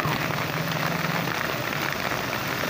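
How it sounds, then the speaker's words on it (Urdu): Steady rain falling in Taxila, a loud, dense continuous patter on surfaces close by, with no voices over it. "ٹیکسلے چے بارش سٹارٹ ہو گئی"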